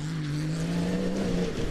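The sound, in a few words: BMW X3 Proto rally car engine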